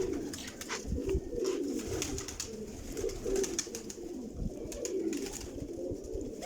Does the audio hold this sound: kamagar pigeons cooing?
yes